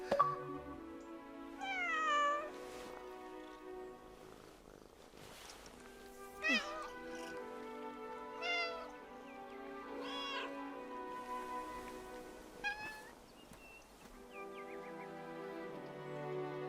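A cat in the game 11-11: Memories Retold meows repeatedly, about half a dozen separate calls spaced a couple of seconds apart over quiet background.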